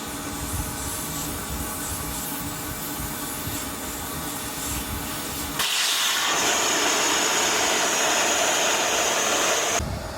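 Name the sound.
air blown through swimming pool lines for winterizing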